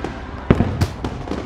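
Fireworks going off at night, several sharp pops and bangs spaced irregularly over a constant crowd murmur.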